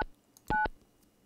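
Telephone keypad tones sound in the video game Mon Bazou: a brief beep followed by two quick, clear dialing tones, close and distinct against a quiet background.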